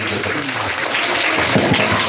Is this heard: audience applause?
yes